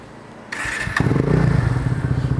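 A Kawasaki W175 motorcycle starter whirs briefly, then the engine catches and settles into a loud, close, throbbing idle through a custom exhaust.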